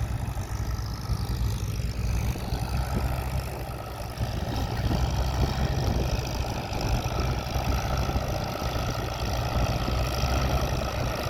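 A Farmall 230 tractor engine idles steadily nearby, a low, even chugging rumble that continues unbroken throughout.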